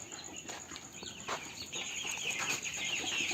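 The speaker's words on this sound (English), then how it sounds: "here are the birds, the poultry farm" Chickens on a small poultry farm of about 200 birds cluck faintly and sporadically in the background under a steady high-pitched hiss, with no voices.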